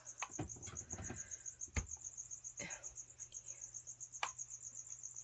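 Feeder crickets chirp steadily inside a jumping spider enclosure at night, a continuous rapid high trill with a few soft clicks and rustles beneath it.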